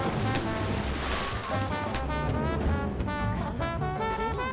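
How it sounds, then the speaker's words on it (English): Video game water and waves, a steady rushing surf-like wash with a bright layered tone, loud and continuous with no voices. "Oh, that's the water."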